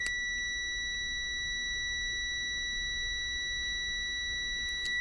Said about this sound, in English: Continuity check, should be 0.